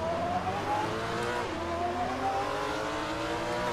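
Several GT4 race cars in Assetto Corsa accelerating off the start at Mugello, a steady dense engine drone with rising revs from a nearby pack, no talk.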